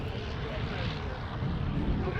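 Avro 504K vintage biplane at the Shuttleworth Best of British Airshow, its engine making a steady, broad droning roar that stays loud and unbroken throughout, with no clear pauses.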